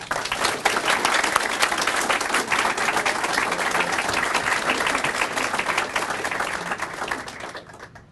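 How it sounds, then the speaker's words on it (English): Audience applause at the 2017 Crystal Apple Awards for a distinguished teacher, a dense, steady wash of many hands clapping that holds for several seconds before fading near the end. "please join me in a round of applause for her"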